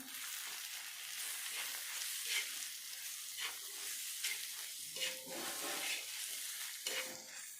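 A spoon stirs masala pav bhaji with coriander powder in a hot pan, with continuous close sizzling and frying and repeated scraping strokes throughout.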